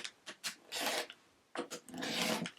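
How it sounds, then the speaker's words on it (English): Rotary cutter or blade trimming raw edges off cotton quilt fabric squares on a cutting mat, heard as two long rasping cuts, each led by short scraping strokes, close and fairly quiet with no talk. "I'm going to just trim off these raw edges here."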